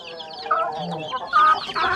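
A fancy fighter-breed rooster on a Bangladeshi farm clucking in short, loud throaty bursts close by, with a faint voice in the background.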